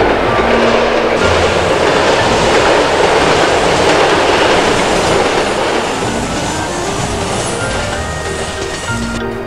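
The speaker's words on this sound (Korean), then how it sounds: "계곡을 굽이굽이 품고 달리는 영동선" A Yeongdong Line train runs along a winding mountain valley, its steady rumble and clattering wheels loud and close throughout, fading slightly toward the end, with no voices.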